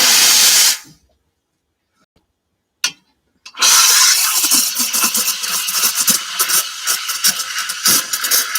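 A steam wand hisses loudly into milk at first, cuts out for a few seconds of near silence, then starts again with a bright, rough, steady hiss that lasts to the end.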